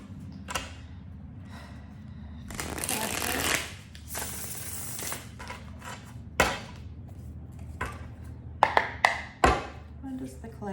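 Tarot cards being shuffled during a collective reading, with a long riffle burst in the middle and scattered sharp taps and card slaps near the close, all fairly close and distinct.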